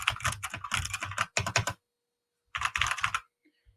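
Rapid clicky keystrokes on a budget gaming computer keyboard, played close and loud in dense bursts, break off into a second of silence, then resume in a shorter flurry.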